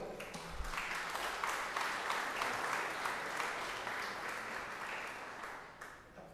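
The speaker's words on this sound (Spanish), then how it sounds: "Recibamos a nuestro ponente con un fuerte aplauso" An audience at an electoral lecture session in Lima gives steady applause to welcome a speaker, the clapping fairly faint and even before tapering off near the end.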